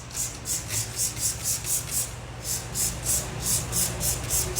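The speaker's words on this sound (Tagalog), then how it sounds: "Shake muna natin and then spray." A hand-pump spray bottle of Seaways all-purpose cleaner is squeezed over and over, making a close, rapid, evenly paced series of about a dozen short hissing spritzes with no talking.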